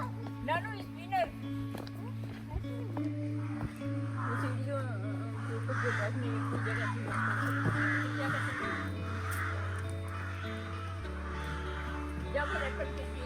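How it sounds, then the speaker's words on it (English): Birds call outdoors on a coastal road trip to Broad Haven in Pembrokeshire, with repeated harsh caws and cries scattered throughout. A steady low hum runs underneath, and voices can be heard faintly in the background. "If you look up, there are birds all the way."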